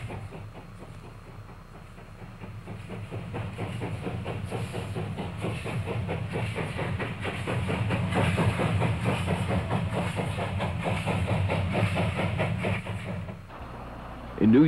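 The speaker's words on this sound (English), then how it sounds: "feel the blast of steam power around you. Feel the shaking power of the engine below." A steam locomotive runs along railroad tracks, its rhythmic chuffing and clatter building to a loud, steady pulse before dropping away near the end.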